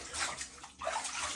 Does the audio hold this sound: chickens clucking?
no